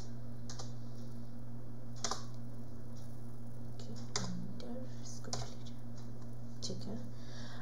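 Computer keyboard keys tapped in short scattered bursts while editing a file on a Linux system, close and crisp over a steady low electrical hum, with a voice speaking during the typing.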